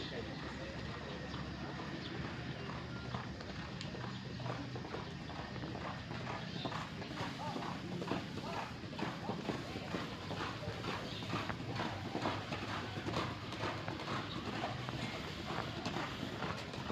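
Racehorses queue before a traditional Gayo horse race practice, their hooves clip-clopping in a steady, dense patter against continuous outdoor crowd murmur and noise.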